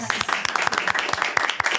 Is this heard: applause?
yes